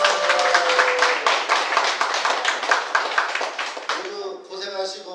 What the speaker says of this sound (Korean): 우리 모두를 위해서 우리 박수 한번 치시겠습니다.